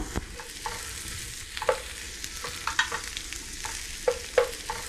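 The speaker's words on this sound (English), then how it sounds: "You don't want to cook the vegan ham too long." Vegan ham for a Pacific Islands pea stew sears in a pan over medium-high heat, giving a soft continuous sizzle broken by intermittent scraping and stirring clicks. The sound is close and quiet, with no voices.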